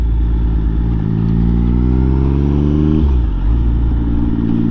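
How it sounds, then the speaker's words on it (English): A motorcycle engine drones steadily in UK traffic while another vehicle comes up close behind; the engine note climbs, then dips sharply near the end, loud and continuous with no talking. "So that warned me that there was a guy coming up behind me."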